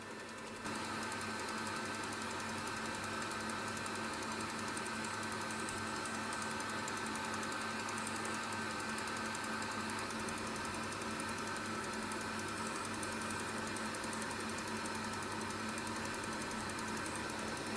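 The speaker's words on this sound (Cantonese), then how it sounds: "然之後廚師機我哋就開高速。" A stand mixer whirs continuously at high speed, beating chilled egg whites for a sponge cake, a steady even drone from start to finish.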